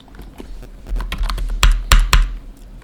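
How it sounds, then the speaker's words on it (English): Someone types a router configuration command on a computer keyboard during network setup work. Close, crisp key clicks come in an uneven run, with a few louder strikes near the end. "We type show running config."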